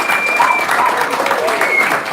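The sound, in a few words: audience applause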